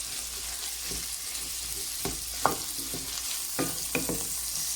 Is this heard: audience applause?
no